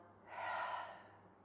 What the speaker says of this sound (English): we just take a little breath in through the nose, you open your mouth